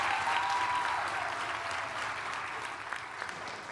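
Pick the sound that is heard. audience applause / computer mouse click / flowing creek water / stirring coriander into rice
audience applause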